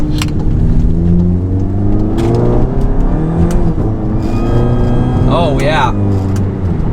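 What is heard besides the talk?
VW Mk7 GTI engine accelerating under boost with GFB DV+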